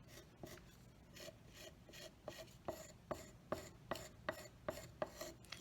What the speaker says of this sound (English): So I'm scraping on the high side.